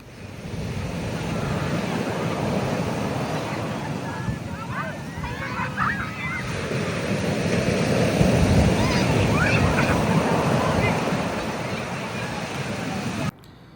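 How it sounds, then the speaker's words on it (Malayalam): Rough sea surf breaks on the beach at Ponnani, a broad, continuous roar of waves mixed with wind noise and the faint babble of a crowd of onlookers. "ഭയങ്കരമായിട്ടുള്ള തിരയുണ്ട് കടലിൽ"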